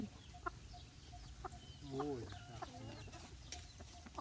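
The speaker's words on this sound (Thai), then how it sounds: "ไก่ตอดเด้อ" Chickens cluck softly nearby, with scattered short clucks and a brief louder squawk partway through, over quiet background noise.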